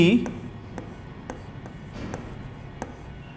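Chalk or marker writing on a board during a vector lesson: a few short, sharp scratching strokes at an irregular pace, close and fairly quiet, with faint room noise and no clear speech.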